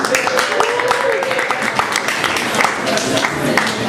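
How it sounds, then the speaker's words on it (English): Audience at a MAKE TALK PLAY game developer meetup applauding, dense steady clapping filling the room with a voice talking over it. "Big round of applause."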